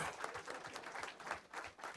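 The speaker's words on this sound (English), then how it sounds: "Let's give him a hand for that thing." Scattered, fairly faint clapping from a small crowd, a quick burst of applause with uneven, overlapping hand claps.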